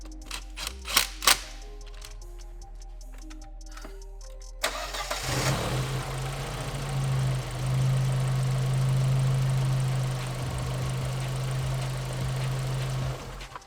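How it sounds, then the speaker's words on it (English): Several sharp clicks and cranking noises come first, then an Audi B6 A4 engine catches and settles into a steady, close idle that rises slightly before evening out. "So the car started up."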